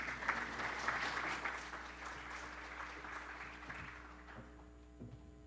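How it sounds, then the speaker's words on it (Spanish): A conference audience on Latin American climate mitigation applauds to welcome speaker Eduardo Calvo, steady clapping over a low electrical hum that gradually fades and thins out toward the end. "Damos con un fuerte aplauso la bienvenida al señor Eduardo Calvo."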